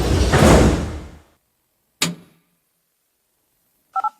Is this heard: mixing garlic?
no